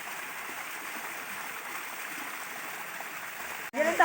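Water rushes steadily at a large waterfall on a rural Quezon property, a constant hiss of flowing water heard from a distance, broken near the end by a brief rustle.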